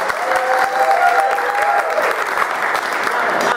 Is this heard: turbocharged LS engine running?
no